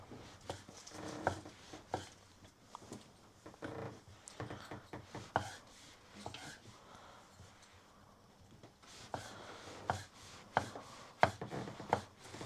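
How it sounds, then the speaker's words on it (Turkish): Oyster mushrooms are cut into cubes with a knife on a board, a run of irregular crisp chopping taps close by with short pauses between bursts. "büyük olduğu için mecburen kuşbaşı şeklinde doğrayın"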